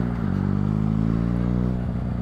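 Motorcycle cruising on a US highway with manual gear changes, a steady loud engine drone with a slight pitch dip partway through, close up and with no talking.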